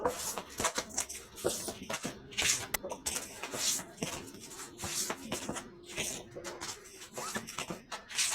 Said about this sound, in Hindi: करते हैं कार्ड्स की शफलिंग।